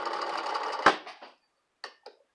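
A 1952 Singer 15-91 sewing machine stitches through heavy socks, a loud rapid mechanical whir for under a second that ends in a sharp thump, then two short bursts of clatter.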